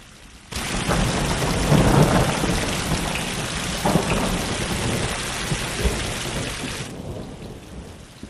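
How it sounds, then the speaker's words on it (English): A heavy thunderstorm sets in abruptly, with dense, steady rain roaring close by and low rolls of thunder rumbling underneath before the downpour cuts off near the end. "Some storm, huh?"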